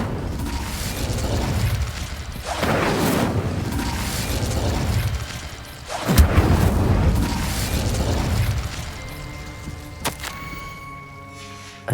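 The Incendio fire spell cast in Hogwarts Legacy, a series of heavy whooshing booms and rumbling bursts that swell and fade, followed by a sharp crack and a ringing magical shimmer.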